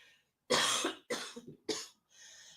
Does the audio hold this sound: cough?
yes